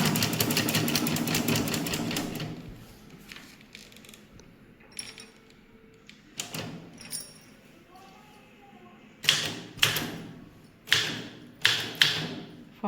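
A typewriter clatters through a typewriting exercise: a dense run of keystrokes, then scattered single key strikes and a few sharper carriage or key thumps, close by, with a voice speaking between and over the typing.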